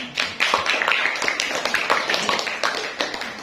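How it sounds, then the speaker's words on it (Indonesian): A classroom of students claps for a group's answer, a short run of fairly even, closely spaced claps at moderate volume over a few seconds. "kasih tepuk tangan untuk jawabannya"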